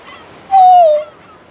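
A person's voice imitates a seagull's call with one short, nasal, honking squawk, loud and close, with no other sound around it.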